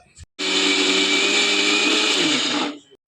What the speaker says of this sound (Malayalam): നമുക്ക് മിക്സി ഇടുന്ന് ഗ്രൈൻഡ് ചെയ്തെടുക്കാം